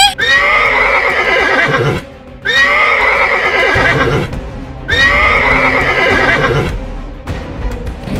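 A horse neighs loudly three times in long, shrill whinnies separated by short pauses, heard in a spooky cartoon setting where a wooden horse rocks by itself, with faint clip-clop beneath.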